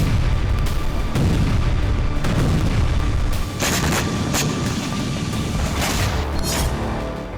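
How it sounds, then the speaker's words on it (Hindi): Missile strikes hit Ukrainian cities, heard as a dense, loud wall of rumbling booms and blasts, with several sharp bursts standing out near the end. "यूक्रेनी शहरों में होती ये तबाही, बरसती हुई पुतिन की मिसाइल मुनादी कर रही हैं"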